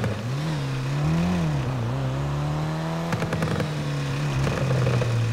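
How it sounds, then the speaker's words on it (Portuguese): A motorcycle climbing uphill in a video game, its engine droning steadily with rising and falling pitch, close and fairly loud, with a few sharp clatters partway through. "Moto subindo aqui."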